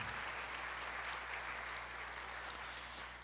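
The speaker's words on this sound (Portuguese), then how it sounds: "Aplauda o Senhor" A church congregation applauds in praise during a worship service, a steady dense wash of many hands clapping together that holds evenly throughout with no voices standing out.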